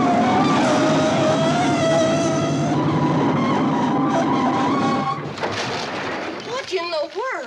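A vintage steam train on a 1960s comedy branch line brakes hard to a stop, a long loud metallic screech and squeal with grinding wheels fading out after about five seconds, followed by clanks and people talking.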